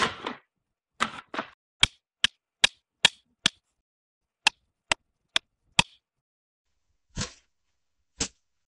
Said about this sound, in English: The paper bag.